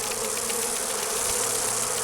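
Honeycomb in the video game Dragon Age Inquisition gives off a steady swarm of bees buzzing, moderately quiet and continuous, with no talk over it.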